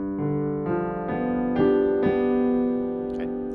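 A piano plays a G dominant seventh chord two-handed, the notes struck in several clear, evenly spaced attacks that ring and sustain, loud and close with no talking.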